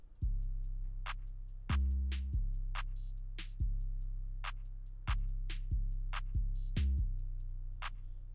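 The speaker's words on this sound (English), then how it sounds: "with the extra percussion, that sounds like this" A looping electronic beat with crisp, rapid clicks and ticks over deep, booming bass hits that recur in a steady groove.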